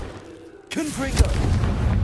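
A Confringo blasting spell cast in the Hogwarts Legacy video game, a sudden booming burst that cuts in from near-silence and rolls on loudly, with a voice heard over it.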